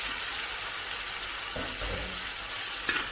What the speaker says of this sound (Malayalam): ഇനി ഞാൻ ഇതിനകത്തേക്ക് 2 ചെറിയ തക്കാളി ചെറുതായിട്ട് അരിഞ്ഞു വെച്ചിട്ടുണ്ട്, അത് ചേർത്ത് കൊടുക്കും.